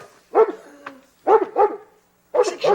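A neighbour's dog barks in three bursts, the middle one a quick double bark, fairly close and loud with short pauses between.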